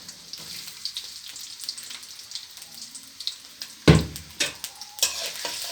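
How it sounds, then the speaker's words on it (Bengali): Chopped onions and chillies drop into a little hot oil, and a sudden burst of sizzling rises, followed by a few more crackling spurts and stirring, close and unaccompanied by speech. "তারপর এখানে আমি দিয়ে দিচ্ছি পেঁয়াজ মরিচ কুচিগুলোকে।"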